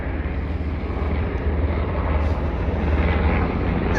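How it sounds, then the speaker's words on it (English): Helicopters fly overhead around a San Diego waterfront, a steady broadband rotor and engine roar that holds fairly loud and constant throughout, with no talking. "those are helicopters just flying all over Kingdom Come here"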